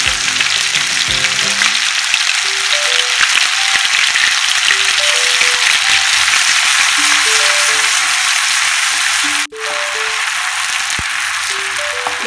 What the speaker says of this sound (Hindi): लहसुन को हमें ज्यादा नहीं भूनना है और 2-3 चम्मच लहसुन अदरक का पेस्ट।